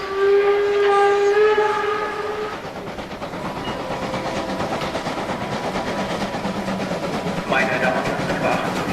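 A freight train on an N-scale model railway layout sounds a long whistle, then passes with a steady rumble and clatter, and the whistle blows again near the end. The sound is close and fairly loud.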